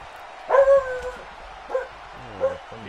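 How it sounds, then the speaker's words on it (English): A dog named Titus gives a few short barks and yips at close range, one loud pair of barks followed by two quieter single yelps spaced apart over a quiet background. "Titus the Wonder Dog, ladies and gentlemen, barking at his own farts"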